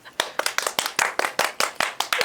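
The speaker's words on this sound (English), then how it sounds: "Miss Bundler, can we get a round of applause?" Hands clap in a quick, steady rhythm of about a dozen sharp claps in a little over two seconds, close and loud, as a guest is welcomed on a book club show, with no talking over it.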